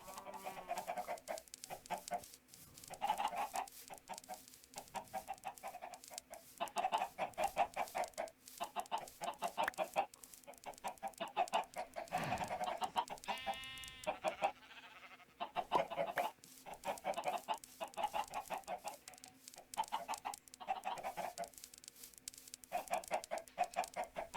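Minecraft chickens cluck in a dense, continuous flock, the rapid clucks overlapping throughout with occasional louder bursts and a brief squawk midway.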